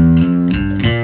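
Bass guitar played through a Sansamp overdrive pedal set for heavy dirt, giving a loud, gritty, sustained distorted tone with harmonic-rich notes that shift a few times, close and alone.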